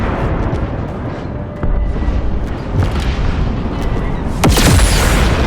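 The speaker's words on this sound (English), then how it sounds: "there'll be a trigger line that you cross that will set up an explosion and kill everything" A scripted explosion goes off at the dock in the video game Halo Infinite, Warship Gbraakon mission: a dense, loud rumbling roar runs throughout, and a sharper, brighter blast bursts out near the end.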